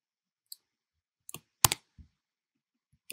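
Sparse computer keyboard keystrokes, a handful of quiet separate clicks spread over a few seconds with silence between them and no talking.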